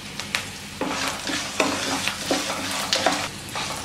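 Green chilies, curry leaves and salt fry in a pan with a bright, crackling sizzle, and a series of sharp spatula scrapes and taps recurs every half second or so against the cookware.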